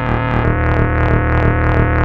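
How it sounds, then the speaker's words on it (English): Eurorack synthesizer patch with a sine-wave modulator driving the filter at audio rate through a WMD Subway scanner module, a loud buzzy distorted drone with rich overtones pulsing rhythmically about four times a second. "that's basically it just modulating the filter at audio rate"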